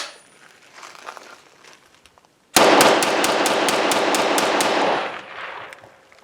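A Norinco T97 rifle fires one rapid burst of about a dozen sharp, loud, evenly spaced shots, close and dominant, after a few seconds of quiet handling noise, then fades to faint background sound.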